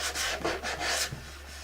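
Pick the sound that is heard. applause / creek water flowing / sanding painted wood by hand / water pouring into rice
sanding painted wood by hand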